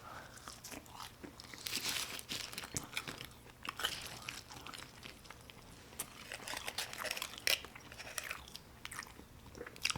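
Close, quiet crunching and biting on Whataburger fries, with irregular crisp bites and chewing continuing steadily throughout, heard alone with no talk.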